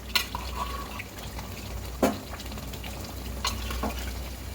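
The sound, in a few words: meat pieces added to frying spice masala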